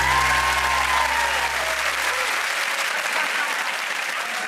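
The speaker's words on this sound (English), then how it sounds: "Did you hear that cheer, Declan, that the audience just gave you?" A studio audience bursts into steady applause and cheering for a young blind football player, a loud continuous roar of clapping with a voice trailing off at the start.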